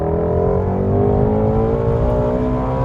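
A Ford Mustang Shelby GT350 engine revs loud and close, a steady rich growl with strong harmonics that rises slightly and holds throughout, with no talking.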